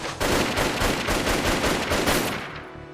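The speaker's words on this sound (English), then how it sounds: "Bullets whizzed in both directions." Rapid gunshots in the game 428 Shibuya Scramble crack out in a steady, loud burst of repeated reports, close and dense, with no talking over them, fading briefly at the end.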